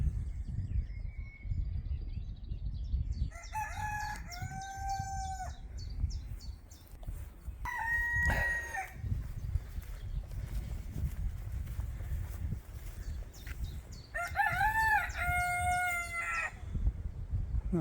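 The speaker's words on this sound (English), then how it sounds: "Some chickens." Chickens cluck softly throughout while a rooster crows three times, the calls standing out clearly over a low rumbling background.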